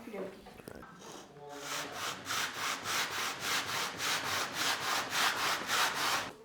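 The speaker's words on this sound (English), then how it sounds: "Just put them both on there and give it a good sanding" A brief voice and clatter, then rhythmic back-and-forth sanding of two wooden whistle pieces, a dozen or so even strokes, close and moderately loud.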